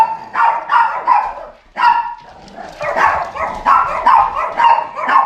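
Several dogs bark in repeated loud bursts, close by, with brief pauses between volleys, the barking continuing almost without break near the end.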